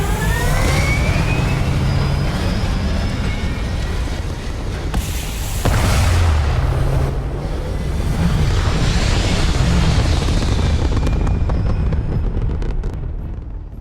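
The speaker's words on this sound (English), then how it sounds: "All thrusters firing." Spaceship thrusters firing in the video game Starfield, a loud, continuous roaring rumble with a rushing, wind-like wash that swells and holds steady for the whole stretch.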